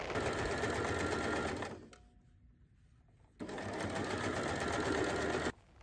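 Sewing machine stitching bias binding onto a pencil case seam: a steady, close mechanical whir that runs for nearly two seconds, pauses briefly, then resumes for a second long run.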